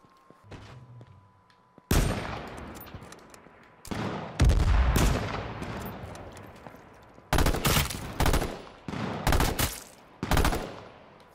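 Gunfire in the battle royale game H1Z1: a short opening shot, then repeated loud bursts and volleys of shots with brief quiet gaps between them.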